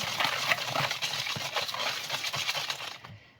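Eggs being mixed in a bowl with salt, sugar and vanilla sugar for sweet poppy-seed bun dough, heard as quick, close, repeated clinking and tapping strokes that stop abruptly at the end.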